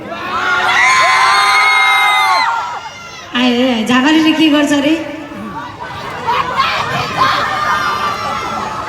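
At a live concert, a crowd cheers, whoops and shouts loudly, with a performer talking over the noise and bursts of chatter between.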